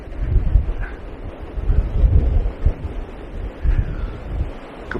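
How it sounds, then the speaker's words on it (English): Strong winter wind buffets the microphone on a small riverbank in low gusty rumbles that swell and fade irregularly, loud and close with no voices. "I'm sure you can hear this wind."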